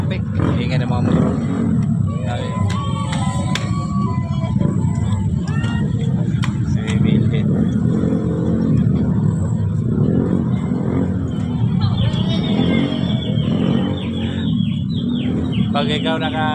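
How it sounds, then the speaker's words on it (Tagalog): Dense, steady roar of motorcycle engines in heavy traffic between Manila and Valenzuela, loud and close throughout, with a few horn-like chirps and distant voices mixed in. "Ingay ng mga motor."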